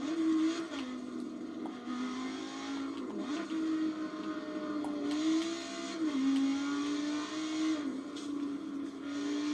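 Race car engines lapping Laguna Seca in a racing video game, a steady high droning whine with small pitch shifts as the cars accelerate and shift, continuous and fairly loud with no talk.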